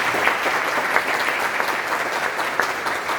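Sustained applause from an audience at a lecture on workplace violence and harassment, many hands clapping in a thick, even rush that holds steady throughout.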